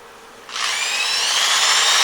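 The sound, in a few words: sanding a spinning wood piece on a lathe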